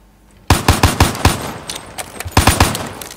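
Rapid automatic gunfire in the PS4 shooter Call of Duty Black Ops 3: a loud sudden burst of sharp shots, a short irregular stutter, then another quick volley, with no talk.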